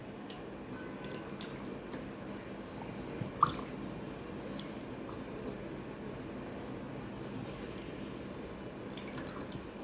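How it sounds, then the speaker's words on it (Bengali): Water drips and trickles off soaked, drained potato pieces for French fries, a soft steady patter with one brief sharper splash near the middle, fairly quiet and close throughout. "এখন আমি আলুগুলো উঠিয়ে নিচ্ছি পানিটা ঝরিয়ে।"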